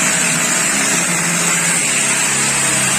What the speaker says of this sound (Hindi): और ये साथ ड्रिल भी चला रहे हैं।